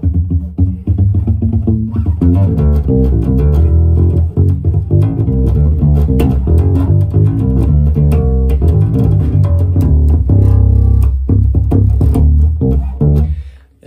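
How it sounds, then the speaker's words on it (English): Fodera Emperor Deluxe five-string bass on its neck pickup, a loud, sustained line of plucked notes played without a break for about fourteen seconds, up close and with no voices. "And the neck pickup sounds like this."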